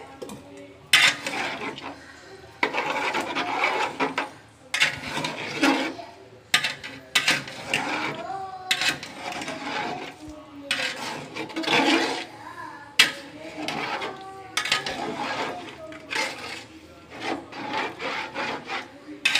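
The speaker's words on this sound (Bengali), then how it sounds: "এখন সকল কিছু ভালো করে মিক্সিং করে নেওয়া হবে।" Spoon scraping and stirring chicken biryani ingredients with chopped garlic and ginger paste in a pot, repeated gritty rubbing strokes in irregular bursts, close and fairly loud, with no talking.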